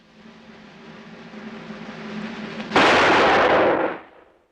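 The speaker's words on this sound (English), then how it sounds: "I'm gonna put a bullet hole right in the middle of that mark." One sharp, loud rifle shot fired at a marked target rings out near the end, following a low rumbling hum and then decaying over about a second.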